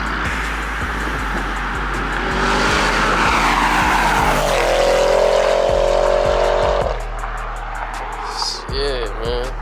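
A 2021 Audi RS6 with downpipes, a full exhaust and a stage 2 tune roars past loudly, its engine note rising and then falling away, with a squeal near the end.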